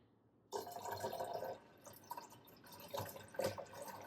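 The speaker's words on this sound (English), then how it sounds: "this is just spring water that I'm going to add in" Spring water pours into a bottle in a steady gurgling stream that starts abruptly, with small splashes and glugs as the level rises, close and moderately quiet, with no talking.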